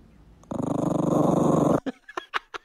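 A puppy lets out a sustained, close, rumbling growl lasting over a second, then follows it with a few short, sharp yips and grunts.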